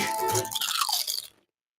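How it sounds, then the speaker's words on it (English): Potato chips crunch in a crisp burst of bites lasting just over a second, close and loud, then cut to sudden silence. "Diefenbach's potato chips, available in all your favorite flavors when you need that PA-crafted crunch."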